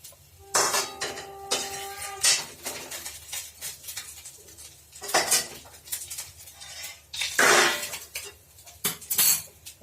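Cauliflower curry scraped from a bowl and stirred into a pan of bhetki fish curry, with repeated close metal spoon clanks and scrapes against the pan and bowl in irregular bursts, with no talking.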